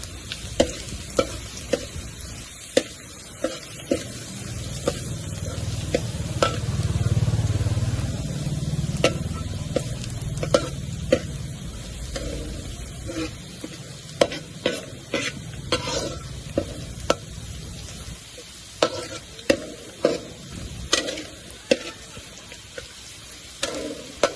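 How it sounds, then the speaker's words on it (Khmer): Garlic stir-fried in a hot pan for a Cambodian stir-fry of winged beans with pork, a steady sizzle of oil under repeated sharp scrapes and taps of the spatula, close and fairly loud, with no talking. "យើងធ្វើខ្ទឹមឲ្យស្ងួយមក"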